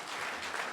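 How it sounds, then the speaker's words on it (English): Audience hand clapping for the President at a business forum hall, a dense steady wash of applause lasting under a second with no voices. "Can we give Her Excellency, the President, a much bigger hand clap?"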